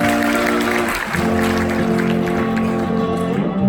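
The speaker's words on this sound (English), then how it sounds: "can we give her a round of applause, please?" A theatre audience at a medical student revue claps in a steady, dense round of applause that runs through the whole moment, with sustained tonal sounds underneath.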